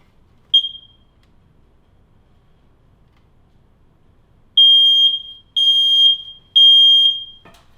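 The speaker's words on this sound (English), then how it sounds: "we want to test the system." A newly installed smoke detector is tested: one short chirp, a quiet gap, then three loud, piercing, evenly spaced beeps in a row, each lasting close to a second, with no talking.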